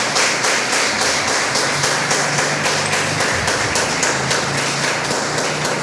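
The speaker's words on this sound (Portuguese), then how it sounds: "Aplauda Jesus enquanto eu bebo água." A church congregation applauds during a Portuguese-language sermon, a dense, loud, sustained clapping with a steady rhythmic pulse that fills the whole stretch without talk.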